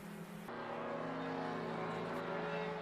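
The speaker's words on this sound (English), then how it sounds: "You hear that motor struggling just a little bit more as well." A race car engine drones at Tucson Speedway with a steady, strained tone, loud and continuous for a few seconds with no voices.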